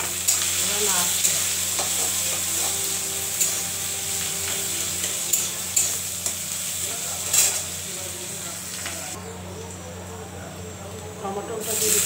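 Onion, ginger paste, garlic and chopped green chili frying in a pan while being stirred, a continuous close sizzle and hiss with scraping stir strokes, and a voice talking over it.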